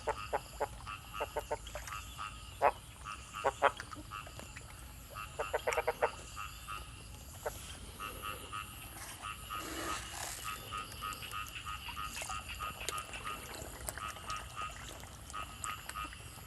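Frogs croak in a busy outdoor chorus around an earthen fish pond after rain, quick repeated calls layered over a steady background hum, moderately distant.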